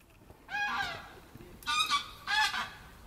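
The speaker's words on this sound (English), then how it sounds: "Seagull out there." A seagull outside calls three times in quick succession, harsh honking cries standing out over faint garden background, moderately distant.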